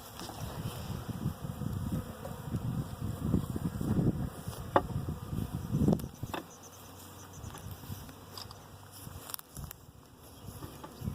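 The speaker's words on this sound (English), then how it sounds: "It's kind of a creepy feeling being surrounded by bees." Bees swarm and buzz around a newly set up beehive outdoors, a steady close drone with occasional louder passes as individual insects fly near, continuing throughout.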